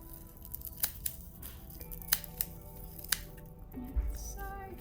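Scissors snip the leftover tail of a woven basket, several sharp, close clicks spaced a second or so apart in a quiet room.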